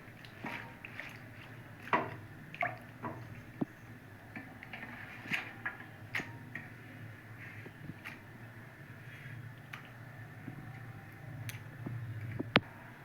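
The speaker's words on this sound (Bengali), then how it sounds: "এবার পালং শাকগুলি একটু সিদ্ধ করে নেব।" Spinach simmering in a pot of water for palak paneer, giving a steady low bubbling rumble dotted with scattered soft pops, ticks and liquid squishes, fairly quiet and close, with no voices.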